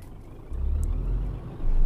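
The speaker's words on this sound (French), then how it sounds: "Oups, j'ai éteint le moteur." Truck engine in Euro Truck Simulator 2 stalling and then restarting: a low simulated diesel drone that shifts and swells in level over a couple of seconds, with a faint high beep.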